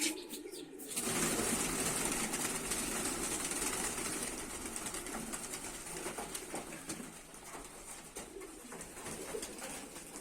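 A brief burst of flapping wings opens, followed by pigeons cooing continuously in a busy, close chorus over a rough background noise.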